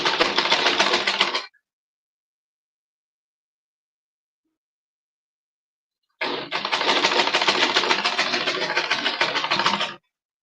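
A sewing machine stitching fabric for a corset gown runs in two bursts, a short one and then a longer steady whir of several seconds, separated by silence.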